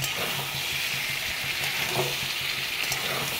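Jackfruit curry with sour yogurt added is stirred in a pan over low flame. A steady, moist sizzle runs throughout, with soft rhythmic stirring scrapes beneath it.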